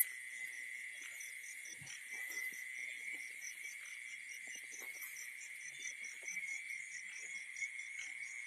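Frogs croak at night during rain, a steady pulsing chorus mixed with high insect trills that runs throughout with faint scattered knocks underneath.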